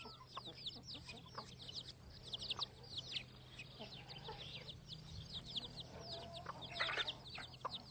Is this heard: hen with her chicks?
yes